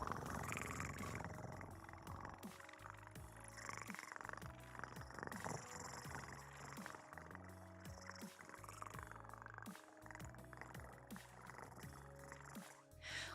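A low, rumbling purr made by a human voice imitating a cat, steady and fairly loud for most of the clip with brief breaks between breaths.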